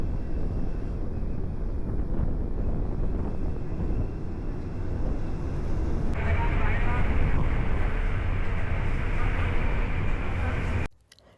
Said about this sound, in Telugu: లోకల్ బస్ అయితే ఎక్కా.